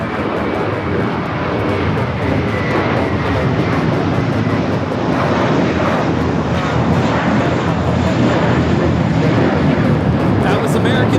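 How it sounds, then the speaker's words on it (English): An American Airlines Airbus A321 takes off from LAX bound for Dallas Fort Worth, a loud, steady broadband jet roar filling the whole stretch with a rushing, wind-like wash and no break. "That was American Airlines 2038 taking off to Dallas Fort Worth on the A321"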